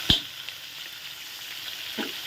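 Red curry paste frying in a pot, a steady soft sizzle with a few brief clinks of a utensil against the pot, close and alone.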